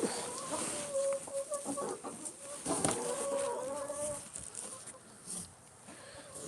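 A flock of farm chickens clucking close by in a yard or shed, a continuous busy chatter of overlapping clucks with occasional louder squawks, moderately loud with some background noise.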